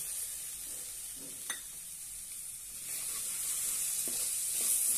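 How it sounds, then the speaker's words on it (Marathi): Finely chopped tomato sautés in a pan with a soft, steady sizzle and an occasional light stir, fairly faint. "एक टोमॅटो बारीक कट केलेला आहे तो घालूया।"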